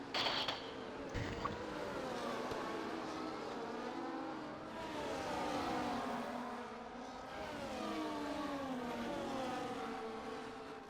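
High-pitched engines of Formula racing cars whine and shift pitch as several cars battle and pass in a racing video game, a continuous layered drone with rising and falling tones.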